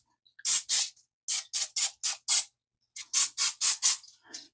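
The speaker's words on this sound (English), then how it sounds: "Now we're going to take a little bit of butter spray." A can of butter spray is squirted onto aluminum foil in the kitchen: about eleven short, hissing bursts in two quick groups, close and crisp with no talking.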